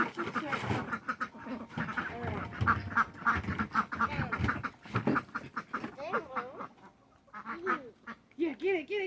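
Ducks quack repeatedly and noisily nearby in rapid, overlapping bursts, mixed with honk-like calls, and a person talks intermittently among them.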